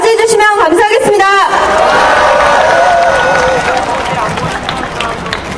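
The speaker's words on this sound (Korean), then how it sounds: "큰 박수로 맞이해주시면 감사하겠습니다" Audience applause greets a lawyer called up to speak at a political rally. It builds into a loud, dense wash of clapping from a large crowd, with an announcer's voice heard at the start.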